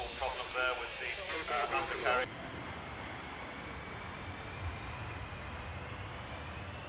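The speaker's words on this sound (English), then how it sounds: "three 492nd Fighter Squadron F-15 Strike Eagles took off from the runway of a Royal Air Force military airfield" F-15 Strike Eagle fighter jets of the 492nd Fighter Squadron taking off from a Royal Air Force military airfield runway, a loud whining jet roar for the first two seconds that then drops to a steady, more distant broadband rumble.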